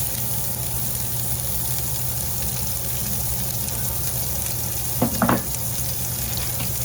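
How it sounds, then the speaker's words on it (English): Onion goes into a pan of browning ground beef, producing a constant, fairly loud sizzle with a short clattering burst toward the end. No voices are present. "So in next goes the onion."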